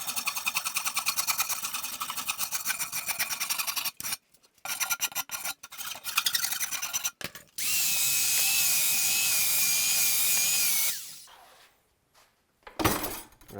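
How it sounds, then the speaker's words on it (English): Rasp smoothing a wooden recurve bow form clamped in a vise, harsh rhythmic rasping strokes broken by short pauses, then a long steady abrasive whine for several seconds, ending in quiet handling and one final scrape. "We'll take it over to the vise here and hit it with the rasp."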